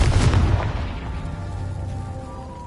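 Confringo blasting spell exploding in Hogwarts Legacy, a single loud booming blast right at the start that rolls off into a fading rumble with lingering ringing tones.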